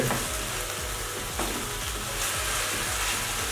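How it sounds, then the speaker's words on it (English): Fish, onions and carrot fry on high heat in a pan, giving a loud, continuous sizzle with the faint scrape and shuffle of stirring underneath and no talking. "We're gonna fry all of this up. On a high heat until that fish is cooked."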